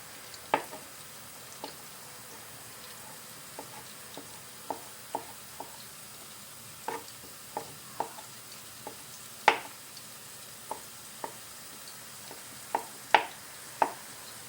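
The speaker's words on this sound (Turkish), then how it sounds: "Evet, soğanımızı kavura duralım." Soft, steady sizzling of onions sautéing in a pan, with scattered light pops and ticks throughout, close by and fairly quiet.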